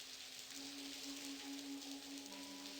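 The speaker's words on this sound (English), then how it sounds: "It's really coming down in buckets." Steady, dense rain hiss from a heavy downpour in the game Blackwell Convergence, a continuous wash of falling water with a faint tonal hum beneath it.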